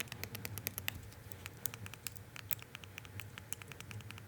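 Small buttons on a Game Cube fidget slider are pressed over and over, giving a quiet, rapid patter of soft, muted clicks in an irregular rhythm, close up and with no talking.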